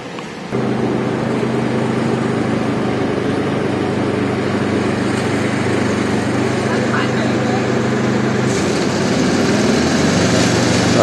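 A Dixon riding lawn mower engine starts and runs at a steady, loud, droning idle close by, holding an even hum throughout with faint background voices.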